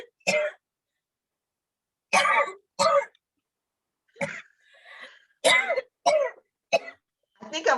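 A caller on a phone-in deliverance prayer broadcast coughs repeatedly in separate loud bursts, some paired close together with throat-clearing sounds and short gaps of silence between them.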